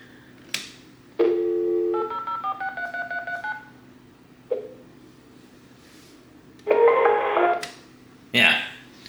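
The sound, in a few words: landline phone automatically dialing a number, DTMF tones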